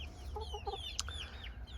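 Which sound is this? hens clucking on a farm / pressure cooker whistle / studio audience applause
hens clucking on a farm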